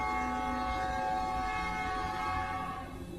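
A train pulls into a station with a long, loud horn blast over a steady rumble of wheels and carriages, fading slightly at the end, with no voices.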